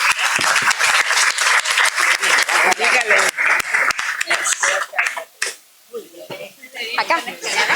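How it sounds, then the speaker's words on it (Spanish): A crowd at an evening science talk on climate change claps for a panelist, with loud, distinct hand claps in a rapid uneven rhythm that thin out midway as voices talk over the room. "Un aplauso, por favor, para Catherine."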